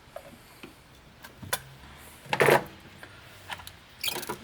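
Pliers pull back the clamp on a coolant hose of a Chevy Cruze or Sonic 1.4L turbo engine, giving a few sparse, sharp metallic clicks and one louder rattling snap, close and quiet in between, with no talk.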